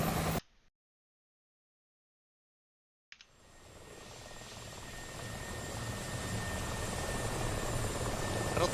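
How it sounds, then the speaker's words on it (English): A helicopter in a multiplayer video game, with a brief burst, then silence, then a steady rotor and engine roar that swells in and holds loud to the end. "Looks like Pascal's missing a little something off of his helicopter."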